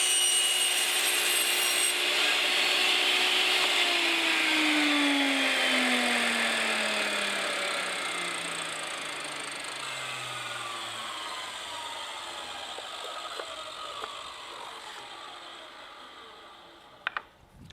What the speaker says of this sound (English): So I need to trim probably another half a blade's width off of this far end.